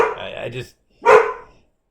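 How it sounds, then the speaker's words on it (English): A dog barks indoors at close range, two loud separate barks with a short silence between them, and nobody speaks. "You get interruptions like my dog, Cody."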